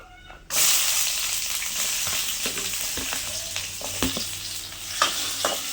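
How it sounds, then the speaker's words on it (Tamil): Sliced onions dropped into hot oil with cloves while making chicken gravy, bursting into a loud sizzle after a quiet start, then steady close frying hiss with intermittent stirring knocks and pops. "டக்குன்னு வெங்காயத்தை போட்டுருங்க"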